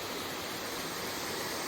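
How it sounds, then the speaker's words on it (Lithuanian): A sizeable mountain waterfall pours in a constant, dense roar, loud and unbroken throughout with no voices. "Kaip matot, ir tikra nemažas krioklys."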